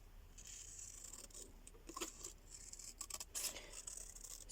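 Scissors snip through a scrap of antique-style paper to trim a narrow 1.5 inch wide tag, giving a few quiet crisp cuts and rustles at close range with no talking.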